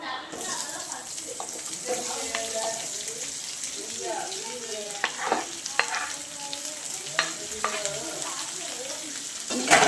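Dried red chillies and onions sauté in a pan, giving a soft, continuous sizzle broken by scattered scrapes and clicks of stirring, with occasional sharper knocks near the end.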